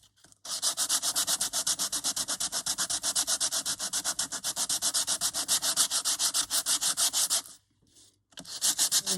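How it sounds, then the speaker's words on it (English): Fast, rhythmic rasping strokes of a nail file, steady and close, continuing for several seconds before a brief pause and resuming. "And then just sanding them down."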